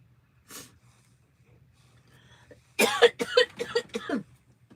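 A short burst of several dry, harsh coughs comes close to the microphone after a quieter single cough earlier, with the bout's hacks following in quick succession against a quiet room.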